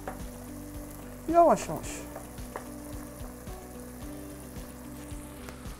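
Rosti potatoes fry in a pan with a constant crackling sizzle, joined briefly by a louder burst of activity near the middle, while a voice speaks quietly once.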